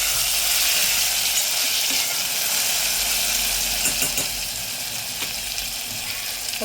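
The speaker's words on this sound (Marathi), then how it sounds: "आता हे छान असं पुन्हा एकदा परतून घ्यायचं आहे." Tomato and onion sauté in a pan for Maharashtrian masale bhat, a continuous close sizzle with occasional stirring scrapes and clicks, easing a little toward the end, with no one speaking.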